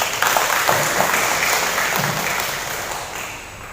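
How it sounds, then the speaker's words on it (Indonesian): A large audience at a religious moderation event applauds a madrasah's 400 new students, a broad, steady roar of clapping that slowly tapers off. "Tepuk tangan untuk MAN 3."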